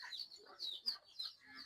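Short bursts of chicken clucking and chirpy calls, several close birds vocalizing in uneven, overlapping pulses.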